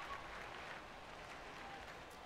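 A sellout stadium crowd in MLB The Show 22 applauding and murmuring as a steady, even wash of noise, moderately loud and continuous throughout, with no distinct voice rising above it.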